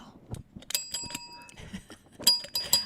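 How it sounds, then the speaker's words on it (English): A hand bell rings in short bright bursts, a few separate jingles with quiet gaps and soft thumps and handling noise between them. "I'm gonna take this bell."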